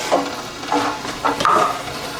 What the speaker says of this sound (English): We're gonna stir now.